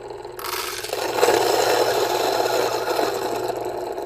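A Fellow Ode coffee grinder grinds coffee beans with a loud, steady whir and a gritty rattle of beans that starts abruptly and runs continuously. No voices are heard.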